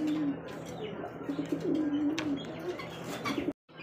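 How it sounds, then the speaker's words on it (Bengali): Pigeons coo in a steady, murmuring stream at a market selling pairs of pigeons, the low rolling calls close and continuous with a few brief chirps, then cutting off abruptly near the end. "তো দর্শক চলে আসলাম আর এক 2 পেয়ার কবুতর নিয়ে"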